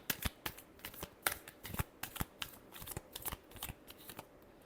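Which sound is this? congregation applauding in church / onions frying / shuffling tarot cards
shuffling tarot cards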